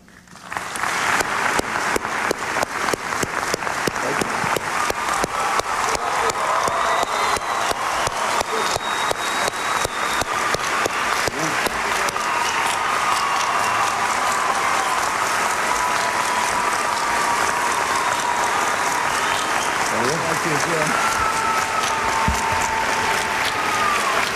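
Dense, sustained applause from a large audience fills a debate hall for President Bush and Senator Kerry's first 2004 presidential debate, steady and loud throughout with no talk over it.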